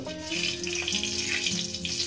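Four dried red chillies fry in a small amount of hot oil, giving a steady, close bubbling sizzle that holds at an even level throughout, with a faint background tone.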